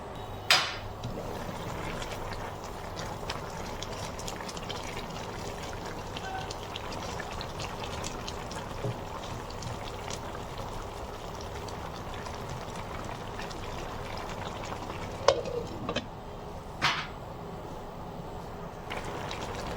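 A fish, cauliflower, potato and tomato curry simmers under a lid in a pan, giving a soft, steady bubbling and crackle with a few faint clinks, low and continuous with no talk over it.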